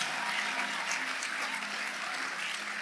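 A church congregation applauds during a sermon, steady broadband clapping that holds evenly at moderate loudness throughout with no voices on top.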